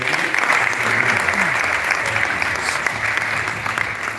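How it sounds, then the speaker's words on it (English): The audience at a graduation ceremony applauds a family, a steady wash of clapping from a large hall crowd that holds for several seconds at even strength. "Please applaud our family."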